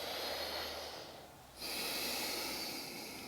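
Deep, slow breathing during a morning yoga session: a long, close, airy inhale-exhale hiss, a brief pause, then another full breath.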